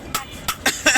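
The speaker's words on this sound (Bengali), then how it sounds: "কাশি লাগে তো।" Someone working where stone is being ground, with stone dust in the air, coughs four short sharp times in quick succession, close and fairly loud.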